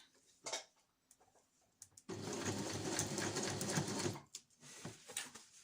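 A sewing machine runs steadily for about two seconds, stitching back over a seam on a reusable snack bag, its rapid mechanical whirr loud and close between quieter handling noises.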